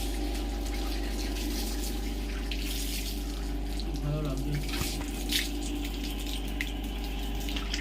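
Water pours and splashes in a steady, continuous wash over a low hum, with faint voices in the background.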